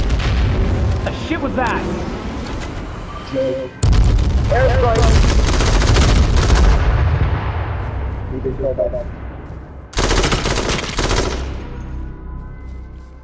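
Heavy booming airstrike explosions in the battle royale game H1Z1 hit in loud, close waves with rumbling tails and scattered gunfire, while players talk over the blasts.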